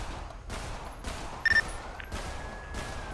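Scattered gunshots from a shooter in the FiveM game, a handful of muffled, distant-sounding reports spaced out over a steady background hum, with a brief high beep in the middle.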